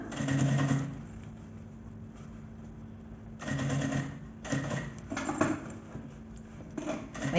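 Sewing machine stitching a shoulder bag in short bursts of rapid mechanical whirring, first at the start, then again after a pause, with small clicks and fabric handling between runs.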